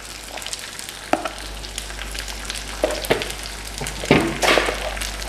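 Spaghetti added by hand to mushrooms frying in a pan: a steady loud sizzle with scraping, stirring bursts that swell toward the end.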